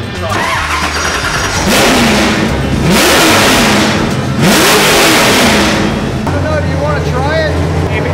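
A car engine revs repeatedly, rising and falling in strong bursts, with a voice speaking over the loud motor.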